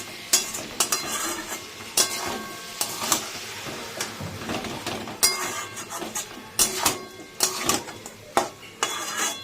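Mutton with chopped tomato being sautéed in a pan yields a low sizzle under frequent clattering, scraping spoon strokes against metal in an uneven rhythm, close and fairly loud, with no talking.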